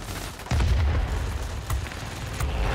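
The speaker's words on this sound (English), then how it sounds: "Somebody's taking pot shots at me" Gunfire aimed at a player's plane in World of Warplanes: heavy booming bursts of cannon fire, a sharp onset followed by a sustained loud rumble, then another hit near the end.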